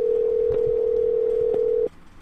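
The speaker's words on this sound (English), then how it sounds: "You hear the ring?" A telephone ringback tone on a live radio call-in, one steady loud tone holding for nearly two seconds before it cuts off into quiet line hiss.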